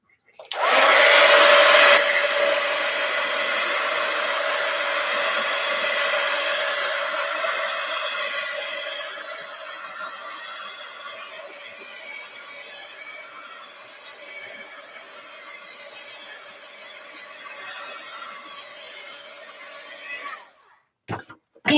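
A hair dryer drying paint on an art journal project with a painted envelope and gingerbread house: a loud steady blowing whoosh with a whining tone that runs for about twenty seconds, dips in loudness partway, then clicks off.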